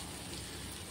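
Water pours into a pan of frying masala for okra curry, giving a steady, even hiss and patter throughout, close and moderately loud with no voices.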